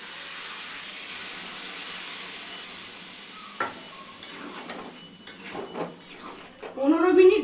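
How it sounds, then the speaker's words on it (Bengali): Hot water is poured into a sizzling pan of Bengali fish-oil curry with papaya, potato and peas. A soft, steady hiss builds into louder, sputtering bursts of sizzle and clinks toward the end. "হাফ কাপ গরম জল দেব।"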